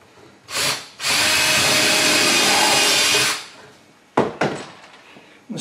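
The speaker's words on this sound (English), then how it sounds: "Then I'm going to put a pilot hole over here." Cordless power drill boring a pilot hole in wood for a casting sifter built to fit a mortar tray: a short spin-up, then a steady loud close whir for about two seconds, followed by clunks of handling.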